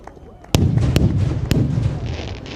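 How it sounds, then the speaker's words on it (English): A fireworks display at a Weston Park 25th anniversary event booms out with a sudden loud burst followed by sharp cracks and a rumbling tail, close and powerful. "that was our fireworks spectacular"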